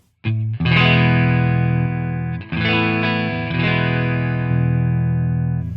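Guitar played through an AmpliTube Mesa Boogie Mark IIC+ amp model with the deep switch engaged gives thick, distorted sustained chords, two struck notes ringing out loud and alone with a bass-heavy, saturated tone.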